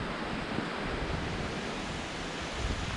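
Streams of water in the Goyt Valley in the Peak District rush and flow steadily as a broad, constant wash of noise, close by and unbroken, with no voices.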